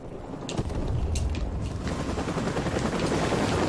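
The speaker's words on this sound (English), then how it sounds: "Helicopters." Helicopters in the video game Modern Warfare Remastered, a steady loud rotor drone and mechanical rumble that continues throughout, with a few sharp clatters on top and no talking.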